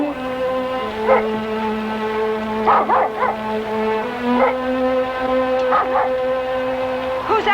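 A farm dog barking near a farmhouse road at night, repeated yaps and whimpering barks at irregular intervals over a steady low droning hum, fairly loud and close.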